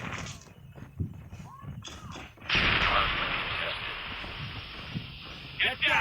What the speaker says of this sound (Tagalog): Pinagdadardar ko ng baril.